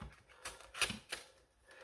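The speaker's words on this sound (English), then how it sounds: "Cut this paper right off." Paper being cut away from the packaging of an X-Shot Pro motorized piston pump AEB foam blaster, a few quick crisp snips and rustles in a short burst, close and fairly quiet.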